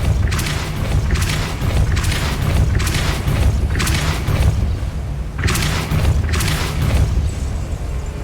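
Repeated magical spell effects in the Hogwarts Legacy video game land as a series of deep booming bursts and thuds at roughly one-second intervals, loud over a constant low rumbling game background.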